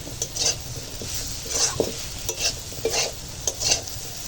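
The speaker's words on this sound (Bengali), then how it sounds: "এখন মিষ্টি কুমড়োটা রান্না হচ্ছে" Sweet pumpkin cooking in a hot pan, a constant sizzle broken by repeated scraping strokes of a spatula against the metal, close and clear, no talking.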